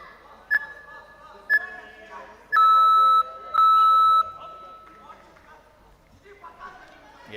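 A round timer beeps at a youth mixed martial arts championship: two short electronic bleeps, then two longer sustained tones, ringing clearly over faint arena background and soft commentary.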